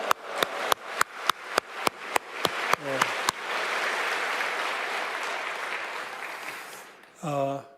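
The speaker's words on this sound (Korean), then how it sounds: "박수로 하나님께 영광을 돌리겠습니다" Church congregation applauding: a run of about a dozen sharp, evenly spaced group claps gives way to sustained, dense applause lasting several seconds, followed by a brief voice at the end.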